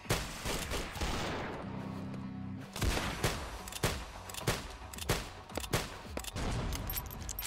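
Rapid gunfire bursts from a Roblox Arsenal match, sharp repeated shots in uneven clusters, loud and close, with a brief tonal game sound in between.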